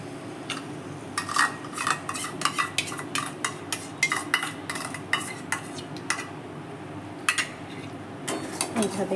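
A spoon stirs whisked sour curd into pointed gourd curry in a pan, with repeated sharp clinks and scrapes of metal against the pan in an irregular rhythm, close and fairly loud.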